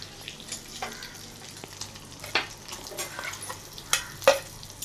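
Oil and ghee tempering with cumin, mustard seeds, garlic, curry leaves and a ground paste for Maharashtrian katachi amti gives a quiet sizzle with scattered crackles and pops, plus a few stirring scrapes.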